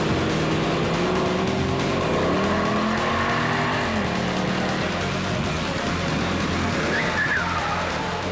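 A Mercedes SLK 55 AMG V8 roadster laps a race track, its engine revving up and down through corners and a chicane, loud and sustained with faint tire noise and brief narration.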